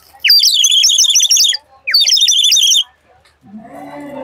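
A wooden bird toy whistle filled with water warbles in two bright bursts of bubbling chirps, loud and close, with a short pause between and a low murmur of voices at the end, heard at a river festival stall.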